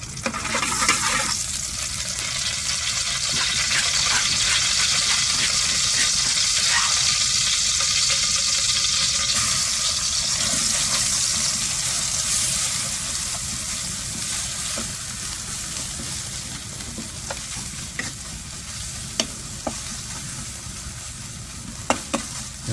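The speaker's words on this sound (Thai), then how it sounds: "เดี๋ยวเราจะผัดน้ำพริกกับหมูสามชั้นก่อนนะครับ" Chili paste and pork belly stir-fried in a little oil in a pot, a loud continuous sizzle with stirring scrapes for the first half, easing to quieter frying and a few sharp clinks near the end, no talking.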